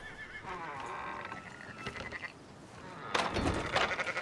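Several sheep bleats and whinny-like calls ring out over a steady background in the video game Red Dead Redemption 2, with a louder burst of bleating near the end.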